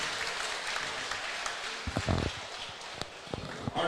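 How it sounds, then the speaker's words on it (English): Crowd applause at a fight event after a three-round bout, a steady broadband patter of clapping with a few louder claps and shuffles standing out toward the end. "big round of applause for these fighters"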